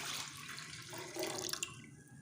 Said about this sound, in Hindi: तो कस्टर्ड बनाने के लिए सबसे पहले हम दूध शामिल कर देंगे कस्टर्ड में।